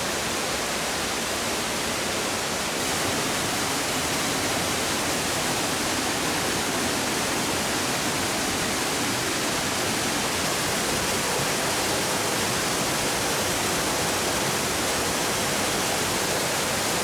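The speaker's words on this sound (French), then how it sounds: "Et me voici donc dans le petit village de Dernacueillette avec cette belle cascade" Waterfall in the village of Dernacueillette in the Corbières, a continuous even hissing rush of falling water, steady and unbroken throughout with no voices.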